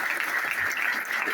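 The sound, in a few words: audience applause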